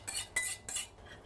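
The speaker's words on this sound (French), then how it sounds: "en remuant en permanence pour que ça n'attache pas" A utensil scrapes and taps around a saucepan as chocolate soufflé mixture cooks over high heat. Three or four quiet, rhythmic stirring strokes are heard, close and alone.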